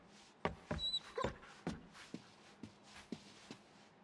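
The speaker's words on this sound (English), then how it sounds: "Poor little dog." A small dog whimpers and yelps in several short bursts amid light shuffling footsteps, inside the video game Marvel's Guardians of the Galaxy; the sounds are close and moderately quiet, with no speech.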